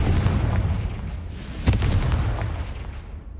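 A Confringo blasting spell explosion in Hogwarts Legacy lands as a sharp boom within a thick, rumbling roar that slowly fades away.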